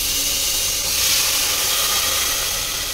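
Water poured into a hot pressure cooker of fried rice for pulao sets off a loud, steady steam hiss and sizzle that lasts the full three seconds without a break, and no one speaks.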